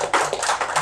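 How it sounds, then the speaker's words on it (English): An audience at a biochar club meeting in Hyderabad applauds, and a steady wash of many hands clapping fills the short moment. "he should get a lot of applause as much as possible for this cause."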